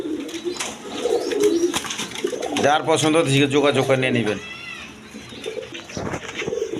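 Red-geared pigeons cooing in a loft, a burst of throaty coos rising and falling over a couple of seconds, with someone talking before and after.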